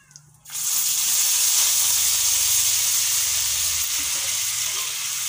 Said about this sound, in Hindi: इसमें मैं डालती हूँ जीरा और डाल देती हूँ मैं लाल मिर्च।